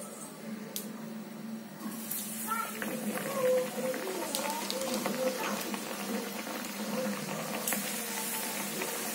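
Ragi flour puri goes into hot oil in a kadai and fries with a steady crackling sizzle and sputtering pops, while someone speaks over it.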